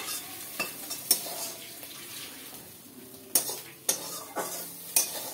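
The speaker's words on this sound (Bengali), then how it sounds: "চিংড়ি মাছগুলো কড়াই থেকে তুলে নিচ্ছি।" Small shrimp frying in oil in a wok, a steady sizzle broken by several sharp scraping clinks of a utensil as the shrimp are lifted out.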